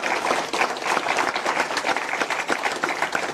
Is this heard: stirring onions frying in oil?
no